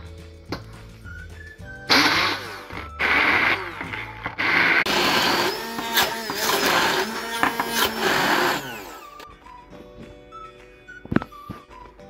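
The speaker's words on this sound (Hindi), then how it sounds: "अब इन्हें मैं ग्राइंड कर लूंगी अच्छी तरह।" Electric grinder blending onion, garlic cloves, green chillies and ginger in a kitchen, running in several loud whirring bursts with short pauses between, with clicks and quieter pauses at the start and end.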